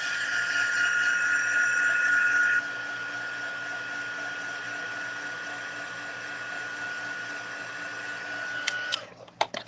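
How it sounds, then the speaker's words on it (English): A heat tool blows steadily on a paper card during stamping, a continuous loud whirring hiss that drops slightly in level partway through, then cuts off with a few clicks and handling knocks at the end. "I'm going to give it a quick zap with my heat tool."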